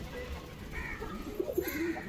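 Young pigeons at a loft, newly out of the nest, give soft, low cooing calls, a few faint, gentle coos in a quiet, close setting.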